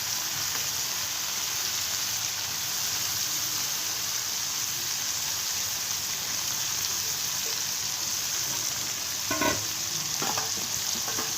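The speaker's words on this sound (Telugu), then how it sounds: "నేనైతే మంచిగా గట్టిగా ఫ్రై చేసుకుంటాను" Masala-coated fish frying hard in smoking hot oil, a steady, loud, close sizzle that holds without pause, broken near the end by a couple of brief clatters of a utensil.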